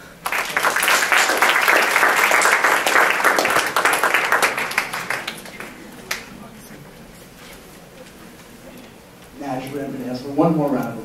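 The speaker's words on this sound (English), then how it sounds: "Actually, I'm going to ask for one more round of applause, please." An audience at a campus education talk gives a round of applause, loud dense clapping for about five seconds that tapers off into quiet room tone before a voice begins speaking.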